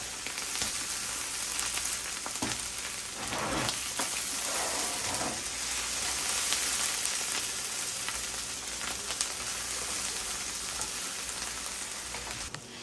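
Corn and onion searing in a pan on the stove, a continuous loud sizzle with scattered crackles and faint scraping through the whole stretch.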